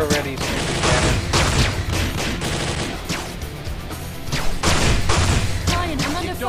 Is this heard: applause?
no